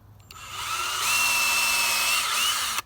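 A power drill bores a tap hole into a maple tree, spinning up and then holding a loud, steady whine with a faint pitch wobble before stopping abruptly.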